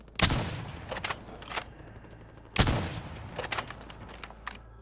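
Heavy cannon-like weapon firing in a video game, two loud booming blasts at the start and midway, each followed by rapid cracking shots and debris, with quieter crackle between.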